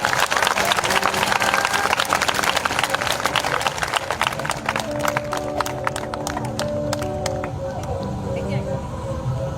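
A church congregation claps throughout, a dense, busy patter that slowly thins toward the end, while voices and some sustained musical tones carry on underneath.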